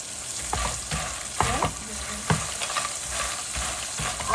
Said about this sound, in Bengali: এইখানে দেখো বাদাম ভাজতেছি বাদাম খাবা গরম গরম বাদাম